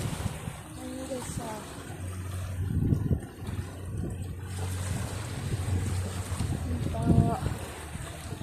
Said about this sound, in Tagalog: Yan po yung dagat.